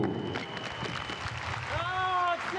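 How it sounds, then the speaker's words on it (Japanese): Crowd applause at the close of a basketball game at a Chiba Jets booster appreciation event, spread-out clapping in an arena under steady crowd murmur, with a buzzer-like tone sounding near the end. "拍手が起こる中"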